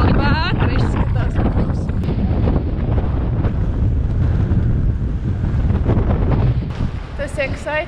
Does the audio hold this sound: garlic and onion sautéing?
no